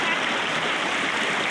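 A strong creek current rushes steadily past, its dense broadband roar of flowing water filling the whole clip with no break and no voices over it.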